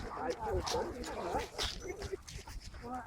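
A dog whimpers and gives short yips amid overlapping conversation at a dog meetup, the high whines rising and falling close by.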